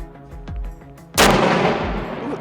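A loud, booming artillery blast erupts during shelling of Bakhmut after a short lull, its heavy rumble lingering and rolling on, preceded by a fainter distant thud.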